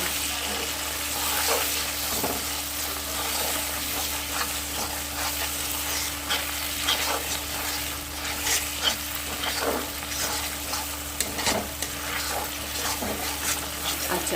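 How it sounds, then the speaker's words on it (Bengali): Shahi paneer masala with Kashmiri chilli being stir-fried in a pan, a steady close sizzle with repeated scraping strokes of a spatula across the pan at an uneven rhythm, with no talking. "এবার কিন্তু আমি ভালো করে কিন্তু আবার কষিয়ে নেব"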